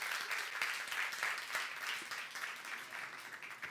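A church congregation claps together during a Korean youth-service sermon, a steady, fairly soft wash of many hands heard from a distance, with no voices over it.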